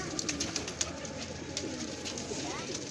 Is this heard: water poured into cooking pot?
no